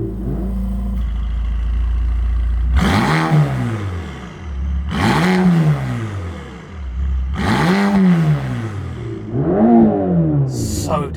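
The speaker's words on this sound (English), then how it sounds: "Let's go into sport mode" A Mercedes-AMG GT Black Series in sport mode with its exhaust flaps open, blipped hard four times from idle: each sharp, loud rev climbs and falls back, with a low idle burble between the bursts.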